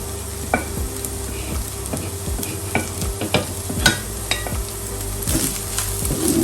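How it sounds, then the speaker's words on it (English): Green beans stir-frying in a hot pan for a Thai-style rice bowl, a steady sizzle broken by repeated scraping strokes and light clinks of a utensil against the pan, close up with no talking. "After 2 to 3 minutes of cooking, it's time to add my green beans"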